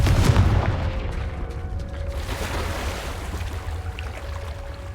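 A Confringo fire blast spell explodes in Hogwarts Legacy, a loud boom at the start that leaves a rumbling, roaring wash fading slowly under a faint steady tone.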